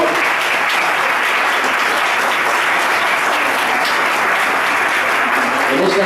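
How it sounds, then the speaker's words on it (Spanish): Loud, even applause from an audience at an awards ceremony honoring a foundation for the elderly, a continuous wash of clapping with no gaps. "Un aplauso, por favor."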